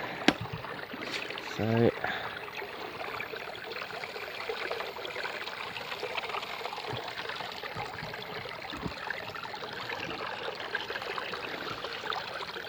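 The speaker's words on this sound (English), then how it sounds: "just about to put some stuff through my little 3D printed sluice here" Water runs steadily through a small 3D printed gold sluice during gold prospecting at Reedy Creek, Victoria, a constant close trickling wash with a few faint clicks and a brief word of speech near the start.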